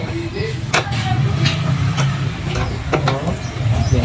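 Bolts on a motorcycle sprocket bearing being tightened with a hand tool, a run of sharp metallic clicks and ratcheting taps up close, with someone speaking over the work.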